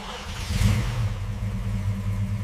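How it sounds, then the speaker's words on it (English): A restored 1969 Dodge Charger engine idles just after startup, a loud, steady low rumble with a slight rise in revs early on, heard alone without talk. "Listen to that engine."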